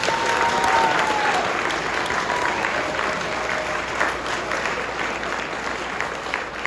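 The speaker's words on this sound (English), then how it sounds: "Let's have another round of applause for our 6th grade leaders." Sixth-grade leaders receive a round of applause from the audience at a school promotion ceremony, as continuous, full clapping fills the room at a steady level throughout.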